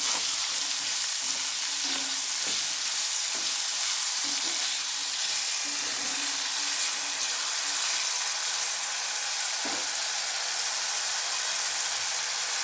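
Potatoes frying in a pan give a steady, loud sizzle with occasional stirring scrapes and clicks, no voices.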